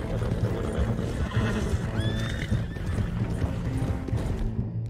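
A horse whinnies in a rising squeal over steady clip-clopping hooves and background game ambience in Red Dead Redemption, fairly close and clear.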